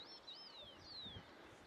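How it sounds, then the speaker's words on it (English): Birds chirping around Inca ruins in Peru: a few thin, high descending whistles from birds at a distance, faint over soft outdoor ambience, no voices. "you can hear the birds all around you."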